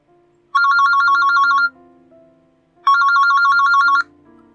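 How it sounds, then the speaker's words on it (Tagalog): A cellphone rings in a bedroom, its electronic ringtone trilling in two loud bursts with a pause between them, with no voices present. "Maya-maya ay bigla na lamang itong nag-ring."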